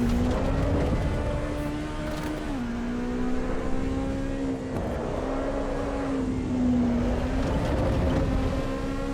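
Race cars circling a track in the Assetto Corsa Evo video game, a continuous loud engine whine that dips and climbs with gear changes, other cars droning around it.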